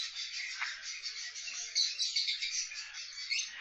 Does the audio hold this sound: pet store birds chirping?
yes